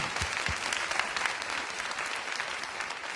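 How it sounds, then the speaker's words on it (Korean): A church congregation applauds in a sustained, even round of clapping at moderate volume, with no talking over it. "박수로 한번 영광."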